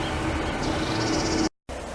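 Starlings calling, one mimicking a buzzard, with a faint, sustained high-pitched call that rises partway through over quiet background noise, then a brief silent gap.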